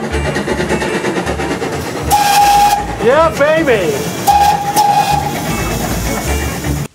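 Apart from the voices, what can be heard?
steam train running and blowing its whistle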